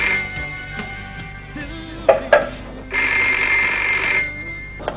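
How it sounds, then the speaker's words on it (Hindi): A telephone rings in a household kitchen setting, two bright bursts of ringing separated by a pause, loud and close, with a few clattering noises between them. "बेटे देखना किसका फोन है।"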